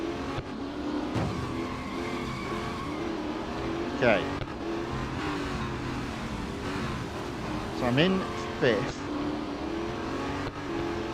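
Racing cars in the mobile game Real Racing 3, steady engine drone with revving pitch sweeps and gear changes as cars overtake, heard under someone talking throughout.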